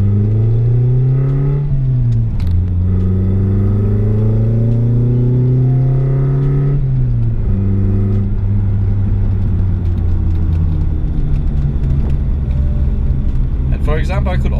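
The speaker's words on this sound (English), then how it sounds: "I'm just gonna take another drive, short drive on very easy, and maybe ramp up the RPM and load this time" A car engine revs repeatedly under load on a short test drive during standalone ECU tuning, its pitch climbing and dropping in several loud, close sweeps that later settle into a steady rumble.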